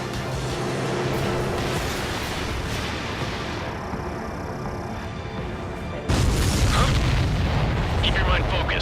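A deep, sustained rumbling blast as an enemy transport is destroyed in the Ace Combat 7 flight combat game, loud and continuous with a sharper surge partway through over constant jet roar.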